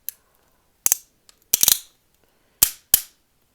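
Plastic arm joint of a Marvel Legends Apocalypse action figure clicking as it rotates, a handful of sharp, close ratcheting snaps in uneven bursts with quiet between them.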